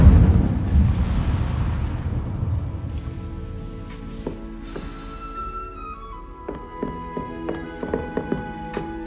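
The Incendio fire spell in Hogwarts Legacy on PC bursts out as a loud whooshing eruption of flame that decays over a few seconds, followed by scattered sharp taps and bright chiming tones.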